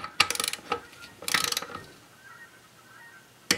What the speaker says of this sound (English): I'm going to actually show you torquing all of these down.